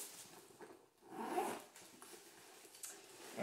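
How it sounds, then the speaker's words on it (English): Zip on a Marc Jacobs Tote Bag Mini in Regal Orchid being pulled open and shut, quiet close rasping strokes that come in a few short runs. "the zip is really easy to use."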